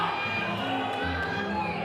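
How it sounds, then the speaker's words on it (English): A crowd cheers in support at a weightlifting competition, a continuous, dense roar of shouting voices that holds steady over the short stretch without any break. "Immense support from the crowd."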